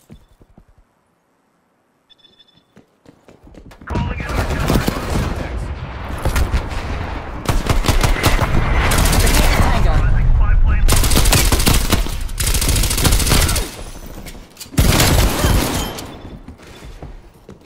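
In the Black Ops Cold War video game, gunfire rattles in dense, loud automatic bursts. The shots run almost continuously from a few seconds in, broken by brief pauses near the end.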